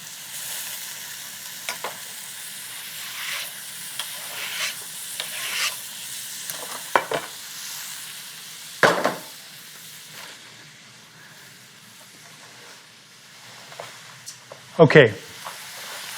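Tomato and mushroom tamale filling cooking down in a pan, a steady soft sizzle with occasional stirring scrapes and a louder clatter near the end, with a brief spoken word early on.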